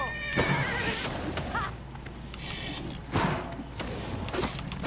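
Several whinnies from a horse in Oblivion Remastered ring out over hoofbeats and soft thumps, fairly close and clear, with a brief bit of voice.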